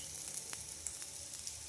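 Corn cutlets, made from coarsely ground maize, sizzle and fry in hot oil in a home kitchen, giving a steady close crackle with small pops scattered throughout and no talking.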